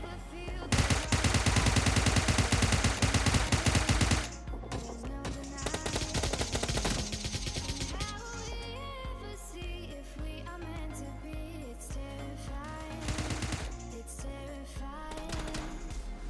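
Dense automatic gunfire and rapid shots from a battle royale video game, loud sustained bursts at first, then continuing scattered firing with game sound effects layered throughout.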